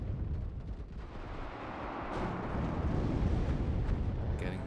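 Artillery fire and explosions in the war strategy game WARNO form a dense, rumbling barrage of booms and crackle that swells louder over a few seconds.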